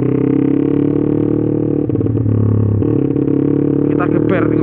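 A motorcycle engine fitted with a newly installed Bpro Racing radiator runs steadily close by, with a steady loud drone and brief uneven pulses as the throttle is blipped midway and again near the end.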